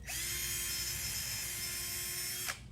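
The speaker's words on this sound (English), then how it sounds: "Give that a nice little drill hole." A power drill bores a small pilot hole into a wooden piece for upcycled wall art, a steady close whine running for about two and a half seconds before stopping abruptly.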